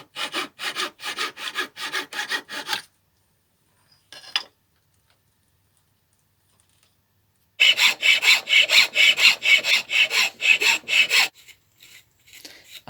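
Wood being sanded on a lathe while turning a wooden marking gauge: close, rhythmic rasping strokes in two bursts, one around three seconds and a longer one later, separated by near silence.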